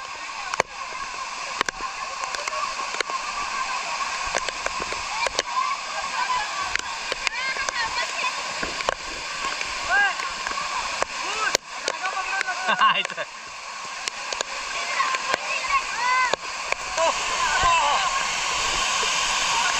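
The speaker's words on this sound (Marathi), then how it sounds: "काय तो पाणी पडतं ना उंचावरून असं" Water crashes down from a height at a dam in a loud, continuous rush, with scattered splashes and faint voices under the roar.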